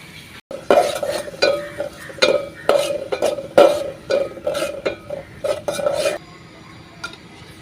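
Dal being tempered (bagar) in a pan: repeated stirring strokes and metallic clinks of a spoon against the pot over a light sizzle, in close, uneven bursts, with no voices.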